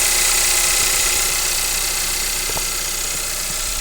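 A 2015 VW Jetta with the 1.8T TSI engine idles after an oil cooler replacement, producing a steady, loud, even hum with a faint ticking texture and one brief click partway through, with no talking.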